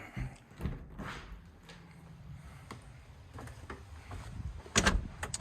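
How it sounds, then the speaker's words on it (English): A door in an old house swings shut, ending in a sharp latch clunk near the end, with faint shuffling footsteps and creaks before it, close and fairly quiet. "Close this yonder door, and we'll go right out the back door."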